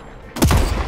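A single sudden gunshot cracks out in the video game Deathloop, loud and close after a quiet moment, its sharp blast trailing into a brief rumbling echo.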